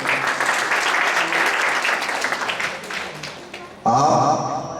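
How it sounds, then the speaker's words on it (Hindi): An audience at a Mahashivratri children's gathering bursts into loud, dense applause that tapers slightly, then a voice cuts in over the tail of the clapping. "इनके लिए जोरदार तालियां"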